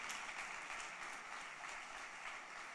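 A church congregation applauds with steady, even clapping that sounds somewhat distant and washes together into a continuous patter.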